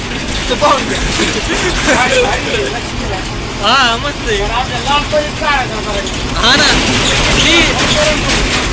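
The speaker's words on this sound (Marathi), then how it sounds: "इथं भलता आवाज येतोय खाडकुड खाडकुड रस्ता खराब आहे ना" A state transport bus rattles and clanks steadily on a rough, broken road, heard loud from inside the cabin along with engine rumble, while people talk over the noise.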